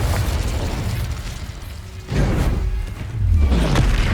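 In Hogwarts Legacy, Confringo explosive spells and other combat spells fire off in quick succession, making loud booming bursts and whooshes over a dense, rumbling battle background, with no voices.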